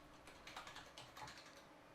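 Quick, quiet keystrokes tapped on a computer keyboard while a name is entered into booking software, a short irregular run of soft clicks with no voices.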